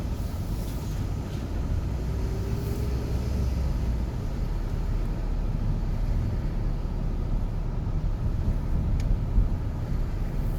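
A car crawls along a rough, worsening road in first gear, heard from inside as a low steady engine drone with rumble and occasional knocks from the uneven surface.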